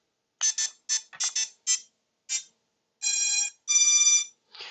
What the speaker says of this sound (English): The buzzer beeps and will continue to beep